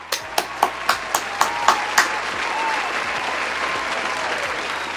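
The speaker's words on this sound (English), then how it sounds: "Let's give the recipients one last round of applause." Audience applause at an IEEE-USA awards ceremony opens with about eight loud, evenly spaced unison claps, then dissolves into a steady, softer wash of scattered clapping.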